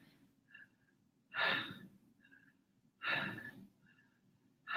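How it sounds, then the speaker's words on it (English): Two long, full breaths close by, each inhale flowing straight into its exhale without a pause, with faint softer breaths between them in a quiet room. "we try to keep the inhale to go right into the exhale"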